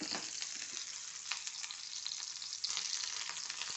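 Okra frying in a pan for a Kerala moru curry, a steady close crackling sizzle with occasional sharper pops and soft stirring scrapes, quiet overall and without any voices.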